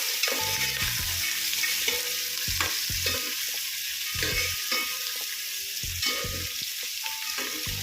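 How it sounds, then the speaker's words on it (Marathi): Ginger and garlic sizzle and fry in a hot pan while a spoon stirs and scrapes them in short, uneven strokes, close and fairly quiet, with no talking. "अद्रक, लसूण आणि याला चांगलं मिक्स करूया पुन्हा."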